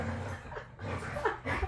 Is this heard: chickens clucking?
no